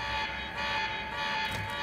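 Alarm blaring in the video game Tiny Fissure, a steady electronic buzzing tone with stacked harmonics that drones continuously at moderate level with no talk over it.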